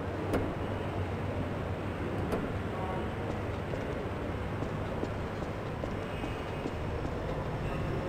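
A train rumbles in Half-Life 2 as it arrives at City 17, a steady low rolling drone with faint metallic clanks and a couple of sharp knocks near the start.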